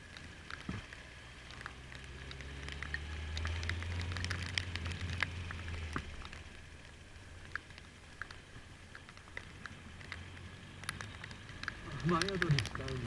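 Steady rain hissing and pattering during a wet-weather motorcycle ride, a constant broadband wash with low engine rumble underneath and occasional sharper drops, with people talking intermittently over it.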